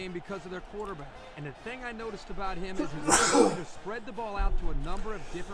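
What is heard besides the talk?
sneeze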